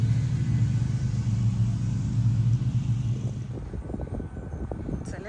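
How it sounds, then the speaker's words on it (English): Garbage truck driving by on trash day, a loud steady low engine rumble that holds close and then fades as it passes, leaving a lighter broken rumble behind. "today is trash day. So here's one of the trucks that comes around and picks up the trash"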